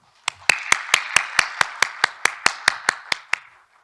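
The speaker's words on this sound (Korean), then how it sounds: "큰 박수로 맞으시기 바랍니다" An audience at the opening ceremony of a Korean university council general assembly claps to welcome the chairman. About fifteen crisp, evenly spaced claps ring out close and loud, then fade out, with no talking.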